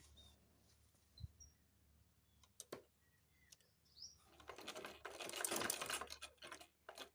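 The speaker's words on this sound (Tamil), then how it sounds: "இதுக்கு நல்ல பக்கம் இந்த 2 பீஸையும் வச்சு ஜாயின் பண்ணணும். 2 தையல் அடிக்கணும்." A sewing machine stitches two skirt pieces together, heard faintly: a few light clicks and taps, then a short run of quiet mechanical whirring near the end.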